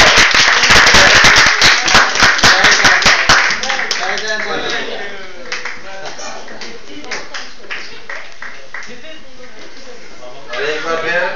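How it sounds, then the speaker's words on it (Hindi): Audience clapping to cheer on children at a Mother's Day gathering: dense, loud applause for about four seconds, then quickly thinning and fading out as background voices take over. "बच्चों की हौसला अफजाई के लिए एक बार फिर हम तालियां बजाएंगे।"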